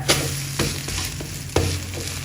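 An egg paratha roll fries in a pan with a steady, close sizzle, broken by a few sharp scraping knocks as it is turned and pressed against the pan.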